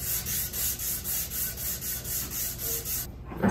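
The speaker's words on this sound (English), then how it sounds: "I love finishing with 500 grit." A wooden picture frame from scrap wood being hand sanded with 500 grit sandpaper, about ten even back-and-forth rubbing strokes in a steady rhythm, close and alone, ending with a light knock.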